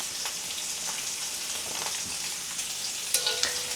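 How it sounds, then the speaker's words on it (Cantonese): Grouper fish bones fry in a pan for soup, a steady close sizzle with soft popping and a few sharper spits toward the end, with no voices. "呢個煎魚嘅過程咧係十分重要嘅，因為咧煎至金黃色咧可以減少咧嗰個腥味啊"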